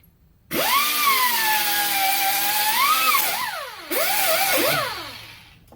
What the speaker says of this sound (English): let's grind this off before we try to put it up